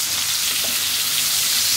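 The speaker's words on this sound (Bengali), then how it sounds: "সাইফানের হাতের ইলিশ মাছ ভাজা আজকে আমরা খাবো সবাই।" Hilsa fish fries in a pan with a loud, continuous hissing sizzle of hot oil, close and steady with no talking.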